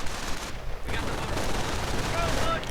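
Sniper and infantry gunfire rattles in a World War II strategy video game as dense, sustained shooting and explosions, with a brief dip early on and faint tonal game effects toward the end.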